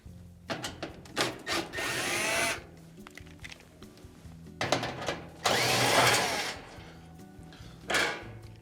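Power screwdriver or drill bursts removing Phillips head screws from the front panel of a Frigidaire gas oven, several short whirring runs with pauses between and clicks of handling, close and moderately loud.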